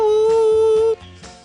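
A voice imitates a high-pitched telephone dial tone with a steady, nasal, sickly-sweet hum held for just under a second before it cuts off abruptly.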